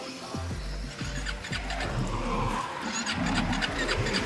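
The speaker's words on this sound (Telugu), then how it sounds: "బైక్ లో ఫ్యూయల్ మొత్తం అయిపోయింది, బైక్ స్టార్ట్ కూడా అవట్లా" A Himalayan 452 motorcycle out of fuel cranking repeatedly without catching, several short rhythmic starter-motor bursts up close, followed by a rougher mechanical churn.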